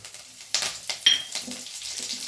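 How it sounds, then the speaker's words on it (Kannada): Curry leaves dropped into hot oil for pav bhaji tempering spit in a couple of sharp sizzling bursts, then settle into a quieter crackle close by. "ಈಗ ಕರಿಬೇವು ಸೊಪ್ಪು ಹಾಕ್ತೀನಿ ನೋಡಿರಿ"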